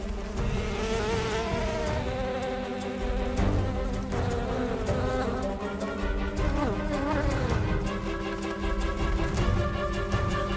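Cartoon bees buzz in a thick, loud, wavering drone that swells and bends in pitch, with a musical score playing under it the whole way through.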